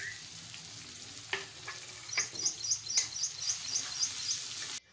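Two large finely chopped onions with curry leaves sauté in a pan for vada rassa, a soft steady sizzle with a few stirring clicks, while birds chirp faintly in the background.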